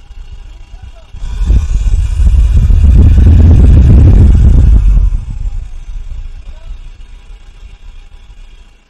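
A Volkswagen TDI diesel engine fitted with a Glasspack exhaust, recorded close to the tailpipe, idles, then rises into a loud, deep rev lasting several seconds before dropping back to idle while people talk.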